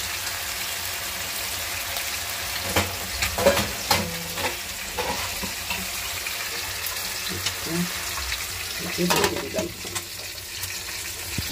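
Leafy greens added to a hot frying pan give a steady low sizzle with scattered stirring clatters and scrapes, moderately close, with a few louder bursts of utensil contact around the middle and near the end.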